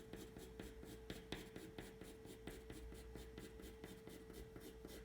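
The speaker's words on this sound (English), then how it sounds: "You're gonna draw little lines this way" Pencil cross-hatching on paper: steady, quick scratchy strokes repeat in an even rhythm, faint and close, with no talking.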